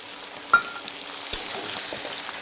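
Chicken with yogurt and masala fries in a pan for biryani, a faint continuous sizzle with a couple of brief clinks from stirring.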